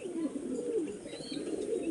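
Soft, low pigeon cooing runs steadily through the whole stretch, a female pigeon of a Kaldom, Laldom or Kala-sabuj breed, close by with a faint higher chirp above.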